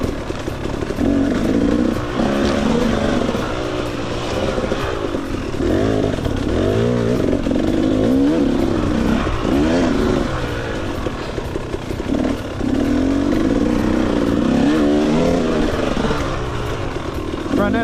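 A dirt bike engine, from a two-stroke versus four-stroke comparison, revs and accelerates along a single-track trail, a loud, close, fluctuating motor drone with repeated throttle surges.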